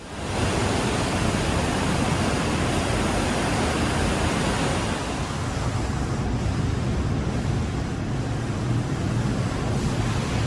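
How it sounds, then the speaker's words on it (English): Dense, steady rush of spraying water blasting over a locomotive inside a train wash, loud and continuous throughout with no pauses, easing very slightly partway through. "We've all seen car washes, but here's a train wash."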